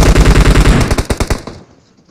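Rapid bursts of automatic gunfire from a PUBG match, loud and close, firing in a steady stuttering rhythm before breaking into a few separate shots and fading out.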